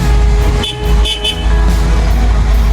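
Traffic in a Foton Tornado M2E truck cab as a jeep cuts in, with a steady engine drone and two short car horn honks near the middle, no talking.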